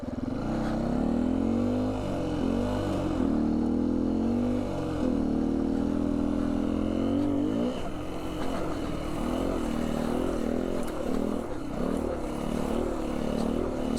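A 2019 Beta 125 RR-S dirt bike fitted with a 150cc Yamaha big bore kit climbs an uphill trail over decomposed granite, its engine buzzing loud and close, rising and dropping in pitch as the rider works the throttle and shifts, with no talking.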